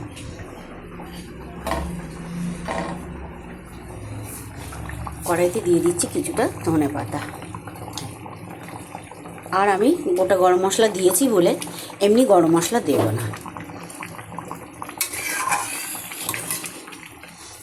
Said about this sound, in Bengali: এই যে ঝোল ফুটছে মাছের কালিয়া